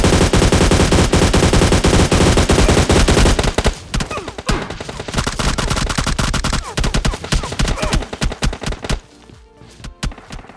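Gunfire in the mobile shooter PUBG Mobile Lite: dense, loud automatic bursts that run continuously at first, then break into rapid separate shots and shorter volleys, with no talking over them.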